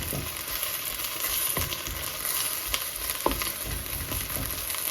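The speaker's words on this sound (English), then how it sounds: "broad bean leaves cooking. Broad bean leaves cooking." Tender broad bean leaves fry in a pan with a steady, close sizzle, broken by a few sharp pops and scraping stirs.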